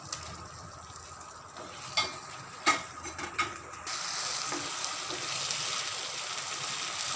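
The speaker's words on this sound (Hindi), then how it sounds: "अब हम इसमें बॉल्स को डाल देंगे और इसको मिक्स करेंगे" Fried potato balls for aloo 65 being stirred into a thick sauce in a pan: quiet sizzling runs under several soft scraping knocks of a spoon, then a steady, brighter hiss of frying continues.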